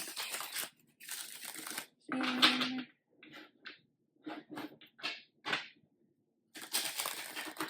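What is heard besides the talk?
shuffling a deck of cards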